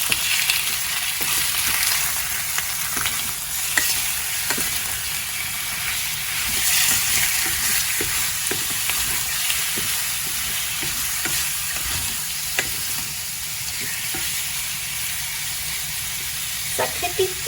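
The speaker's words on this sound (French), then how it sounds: "mon poulet à revenir dans ma sauteuse avec l'huile d'olive" Chicken sizzles in olive oil in a sauté pan, a loud, steady crackling hiss with scattered sharp pops and occasional utensil clicks throughout.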